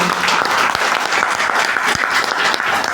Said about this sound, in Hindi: हमारे सारे न्यू अतिथियों के लिए जोरदार तालियां जरूर।